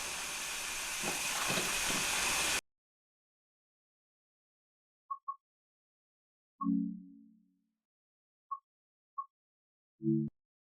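A Stanier 8F steam locomotive in the Train Sim World 5 game gives a loud, steady steam hiss for a couple of seconds that cuts off abruptly into silence, followed by a few faint electronic beeps and short tones.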